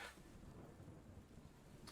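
Steady thunderstorm with rain, a continuous rumbling wash and a brief sharper crack near the end, heard faintly as background ambience.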